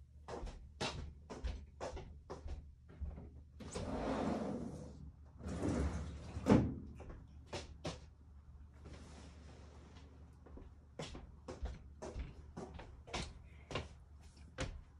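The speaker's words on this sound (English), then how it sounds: "let me go crack the door" Door being cracked open in a home craft space, with scattered knocks and clicks, a longer sliding rustle and one sharper bump, close and fairly quiet, with no talking.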